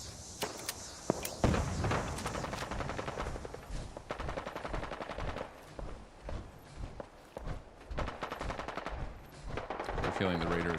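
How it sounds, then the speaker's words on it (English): Video game gunfire in Fallout as raiders and gunners trade shots, with repeated sharp bursts and rapid automatic fire continuing throughout at moderate distance, mixed with footsteps and game ambience. "the raiders and the gunners are shooting at each other"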